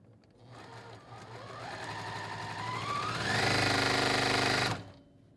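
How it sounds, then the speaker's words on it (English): A sewing machine stitches quilt block pieces, running steadily, its whirring hum rising in speed and pitch, then stopping abruptly near the end. "I'm at the sewing machine"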